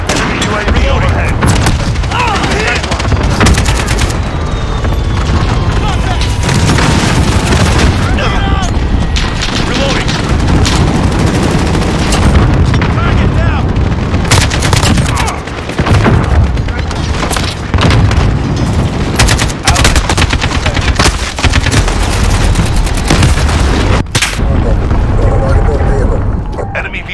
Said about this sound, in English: Cluster strike incoming. Take cover.